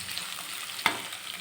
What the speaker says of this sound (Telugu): ఇది మొత్తం వేసి బాగా మగ్గించుకోవాలి. ఇందులో చూడండి ఇది ఆయిల్లోనే బాగా త్వరగా మగ్గుతాయండి.